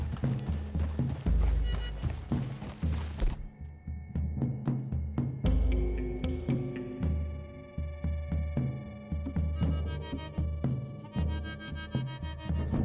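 Horses in the video game Red Dead Redemption 2 walk with steady, close clip-clopping hooves over a low hum, and a soft musical score comes in partway through.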